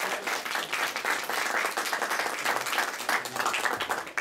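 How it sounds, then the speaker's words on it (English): Audience applause at a summer music recital, a brisk room full of hands clapping at moderate loudness for a few seconds, steady and without voices. "big round of applause for all our new performers"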